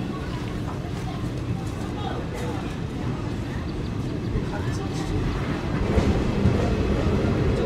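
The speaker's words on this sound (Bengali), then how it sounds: "ফাইনালি নির্দিষ্ট সময় আমাদের ট্রেন এসে পৌঁছালো ব্যান্ডেল" Passenger train arriving at Bandel station heard from onboard, a steady low rumble with faint rail clatter and a slight swell toward the end, with people talking indistinctly in the background.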